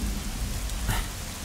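Heavy rain pours in a movie scene, a dense, loud, continuous hiss of downpour with a low rumble beneath, briefly swelling in the middle, with no voices.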